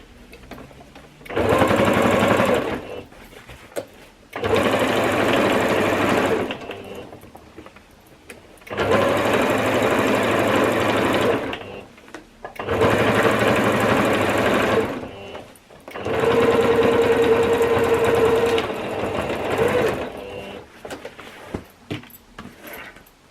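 A sewing machine stitches a laptop bag pocket in five loud, steady bursts of rapid whirring, each a few seconds long, separated by short pauses, close up with no talking.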